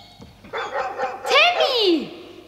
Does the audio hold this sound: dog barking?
yes